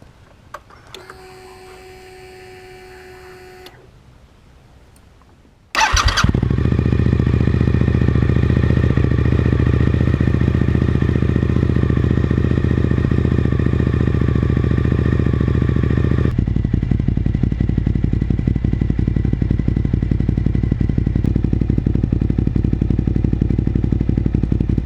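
Suzuki SV1000S motorcycle fitted with a Danmoto muffler: a short mechanical whir, then the engine fires and settles into a loud, close, rapid-pulsing idle that continues to the end with a slight drop in level.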